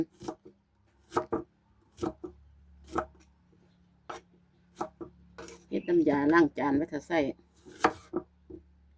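A knife chops lemons on a cutting board for homemade dish soap, with sharp, evenly spaced cuts across the clip and someone talking partway through.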